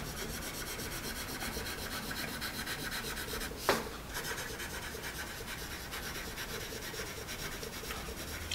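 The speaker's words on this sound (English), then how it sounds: "as that graphite goes over the page." Musgrave Greenbelt graphite pencil dragging across paper, a soft continuous scratchy rasp with a slightly textured feedback, close and quiet, broken by one sharper stroke midway.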